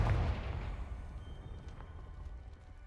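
A Confringo fire spell in Hogwarts Legacy explodes with a heavy low boom at the start, then decays into a fading rumble and crackle that trails away quietly.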